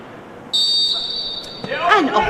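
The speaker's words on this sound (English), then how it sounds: "as we await the referee's whistle to begin proceedings." A referee's whistle signals the start of an under-21 football match between Charlton and Ipswich, a long steady high blast sounding clearly over crowd murmur, followed by voices and shouts from the pitch.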